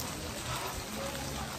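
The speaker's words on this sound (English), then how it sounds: "there we are, walking in the rain" Rain falls steadily while someone walks the Camino between Azofra and Santo Domingo, making a dense, even hiss that fills the whole moment without pauses or voices.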